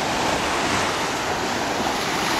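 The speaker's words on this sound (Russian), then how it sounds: "А это у нас Черное море." Black Sea waves wash steadily onto a sandy beach in Crimea, a continuous close surf roar mixed with wind buffeting the microphone, with no voices.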